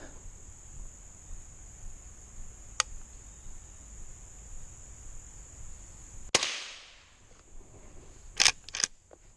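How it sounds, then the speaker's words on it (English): Several sharp, isolated rifle shots from a Henry Classic rifle being sighted in outdoors, one loud crack with a fading tail and a quick pair near the end, over steady cricket chirping. "let's go ahead and shoot another 5-shot group"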